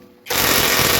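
An Ingco 500Nm cordless impact wrench on a fully charged 5 Ah battery kicks in abruptly after a brief quiet moment, a loud, dense hammering rattle as it tightens a nut.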